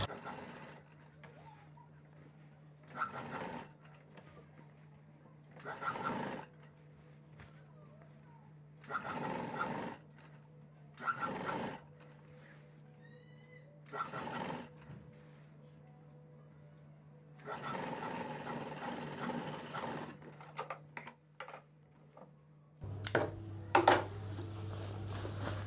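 Sewing machine stitching a permanent seam along a sleeve line, heard as several short bursts of rapid whirring separated by pauses, then a longer stretch of stitching, close and moderately loud.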